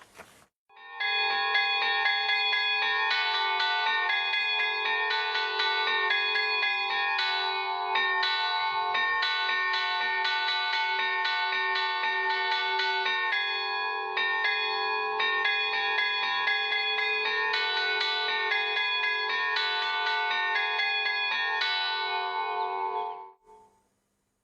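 Traditional bells from Nice are struck by hand to play a melody, ringing in a steady rhythmic sequence of clear, sustained metallic tones that layer and decay, continuing for over twenty seconds before fading out.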